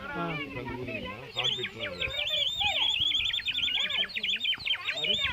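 A water-filled bird whistle toy sends out rapid, warbling sparrow-like chirps and trills, starting after about a second and continuing close and fairly loud, with a voice heard underneath at the start.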